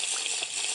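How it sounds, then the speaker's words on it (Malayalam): A water bucket pours in Minecraft, a brief hissing, gushing splash of game water heard alone and fairly faint. "ഒരു വാട്ടർ ബക്കറ്റ് ഒഴിച്ചേക്കെ അവിടെ വാട്ടർ ബക്കറ്റ്"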